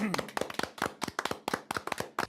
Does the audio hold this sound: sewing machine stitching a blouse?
no